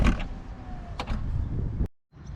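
An Audi A5 Sportback's power tailgate closes automatically with a whirring motor and a couple of mechanical clicks, ending in a solid thud before brief quiet and a faint hum.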